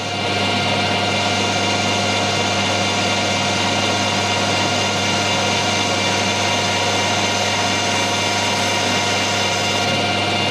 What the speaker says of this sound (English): I want just to go into the knurling.